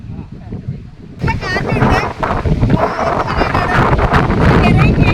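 Wind blows across green farmland in the midday sun, rumbling loudly against the microphone in a continuous gusty roar while people talk over it.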